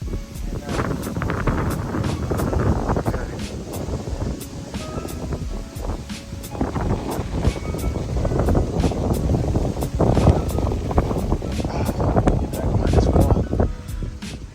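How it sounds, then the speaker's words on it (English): Strong Hurricane Ian wind in Central Florida buffets the microphone in heavy, rumbling gusts, with a person talking through the roar. "Yeah, it's windy out here."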